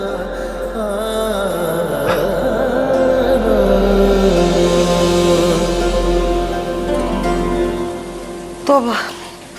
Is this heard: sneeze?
no